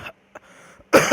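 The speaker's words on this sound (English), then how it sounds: "Dry cough there." A single dry cough from a person, short and close, standing alone between quiet gaps.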